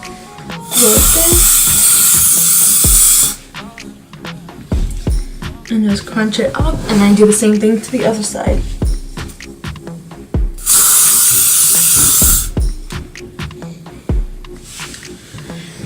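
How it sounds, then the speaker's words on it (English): Two long hissing bursts of hairspray, one at the start and one near the end, with a person talking and rustling between them. "I hairspray it and then I crunch my hair up."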